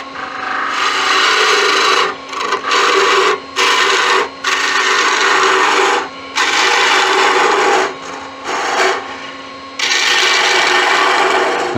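A stainless steel honey dipper turning on a wood lathe while a detail gouge shapes its bottom, a loud continuous rasping scrape broken by several short pauses as the tool lifts away.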